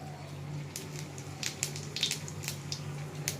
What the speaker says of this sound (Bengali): আমি শুকনো লঙ্কা দেবো ফোড়ন, আর একটু জিরে দেবো।